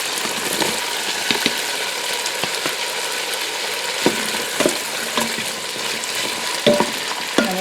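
Chicken and bok choy stems are stir-fried in a Ninja Foodi with a continuous close sizzle, broken by frequent sharp clicks and scrapes of a utensil stirring against the pot.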